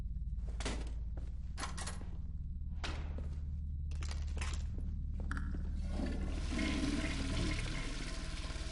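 A toilet flushes in the horror video game No More Room in Hell, preceded by several thuds and clunks of the handle and mechanism, then a loud rushing swirl of water that fills the rest.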